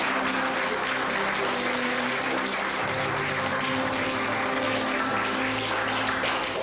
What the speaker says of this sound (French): Eh bien, applaudissez-la